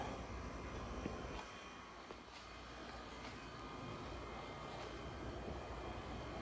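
A steady low mechanical rumble of a C6 Corvette engine with a Texas Speed cam idling continuously, with a faint whine and broad hum, fairly constant in loudness.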